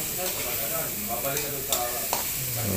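Corned beef stirred in a frying pan under a steady sizzle, with the spatula scraping and clicking intermittently against the pan.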